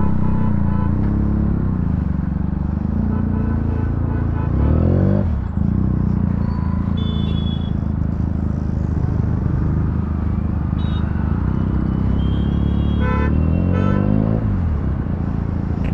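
A Benelli 300TNT motorcycle revs above 7,000 rpm in city traffic at a signal, with short rising engine bursts over a dense rumble of road noise.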